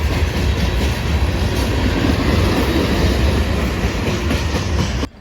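A train rolls steadily past on the rails, a loud, continuous rumble with rhythmic clickety-clack of wheels over track joints lasting until it cuts off abruptly at the end, with no talk.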